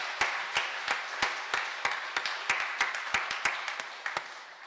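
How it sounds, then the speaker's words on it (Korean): Church congregation giving a welcoming round of applause at a Sunday worship service: a modest, fairly sparse crowd of claps, moderately near, steady for several seconds and then tapering off. "우리 따뜻한 박수로 환영하도록 하겠습니다."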